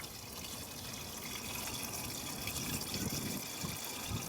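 Windshield washer fluid pours steadily into a car's reservoir, a continuous soft liquid gush and trickle lasting several seconds at close range, with no talking.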